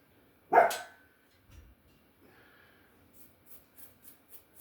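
A small dog gives one sharp bark up close, then a few faint snorts and soft yips trail off in an otherwise quiet room.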